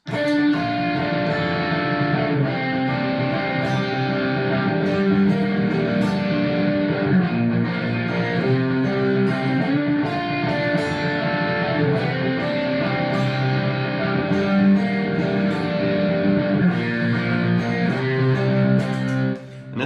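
Electric guitars layered together, a clean picked part over a fuzzy distorted chord bed, playing a steady repeating progression without a break.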